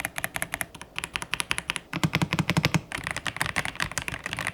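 Typing on an AJAZZ AK820 Max Plus mechanical keyboard with gasket mount, flex-cut PCB, linear hot-swappable switches and double-shot PBT keycaps: rapid, close-up keystrokes in quick, uneven bursts, heard alone.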